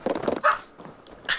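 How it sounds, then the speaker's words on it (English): A dog barks in a few short, sharp bursts indoors, fairly close, with brief pauses and a faint whimpery yip between them. "I understand I'm saying this while my dog is barking"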